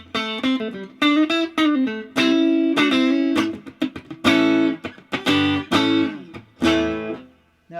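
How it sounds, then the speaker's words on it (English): A clean electric guitar plays through a Vintage Sound Vintage 20 Princeton Reverb style amp, with bright chords and single notes in a loose rhythm, close and clear with natural ring and no voices. "let's hear the clean sound."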